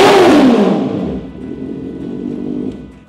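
A Honda CB650R motorcycle engine revs hard at high RPM, a loud, close, rising roar that falls away quickly into a steady idle rumble.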